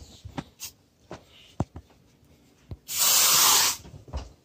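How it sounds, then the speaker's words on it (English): An aerosol spray can hisses in one strong, close burst of about a second, aimed at a Shopkin toy near a toaster oven, after scattered clicks and handling noises. "Gotta get the spray."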